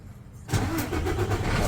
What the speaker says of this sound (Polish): Standardowa procedura. Palimy auto.